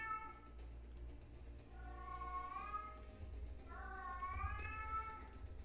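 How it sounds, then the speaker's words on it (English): A house cat meows twice in long, drawn-out rising calls, fairly close, over a steady low hum in a quiet indoor room. "Say hello to my cat."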